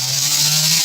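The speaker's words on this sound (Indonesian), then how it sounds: "Itu yang lagi gergaji nih" A chainsaw cuts wood close by in a village setting, its engine holding a loud, steady high-pitched whine throughout.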